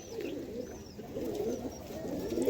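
Madras pigeons coo in low, rolling, overlapping calls close by, a steady murmuring chorus with a few brief higher chirps and some restless movement.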